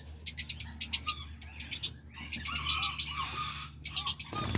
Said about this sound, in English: So yeah, these are all the diamond doves.